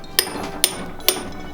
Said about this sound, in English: I'm just trying to hammer through this pumpkin.